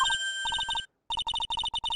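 A cell phone rings in the Phoenix Wright: Justice for All video game as a loud electronic ringtone of rapid, evenly pulsed beeps in repeating bursts, with a brief pause partway through.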